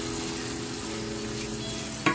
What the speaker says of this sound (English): I know you're going to be hearing the sizzling.